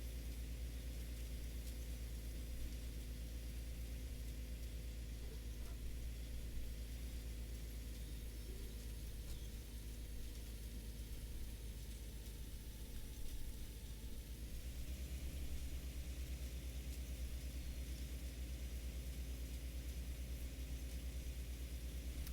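Tractor engine in Farming Simulator 19 while planting soybeans, a steady low engine drone and hum running continuously at moderate level, shifting slightly in tone partway through.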